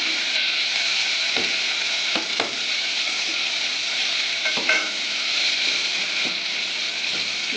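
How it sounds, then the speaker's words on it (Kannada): Spinach and spices for palak sambar sizzle steadily in a hot pan, with a constant bright hiss broken by a few sharp spatula scrapes and clicks against the metal. "ಈ ಥರ ಚೆನ್ನಾಗಿ ಫ್ರೈ ಮಾಡಿ."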